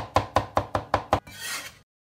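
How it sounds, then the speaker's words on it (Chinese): Garlic being minced with a kitchen knife on a chopping board: five evenly spaced, sharp chops followed by a brief scraping sound, close and clear with no talking. "再剁点蒜末，"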